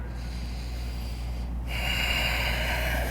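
A yoga instructor takes a slow, audible breath during a hamstring-stretching session, a soft airy inhale that swells into a louder, sustained exhale through the nose, close and alone without speech.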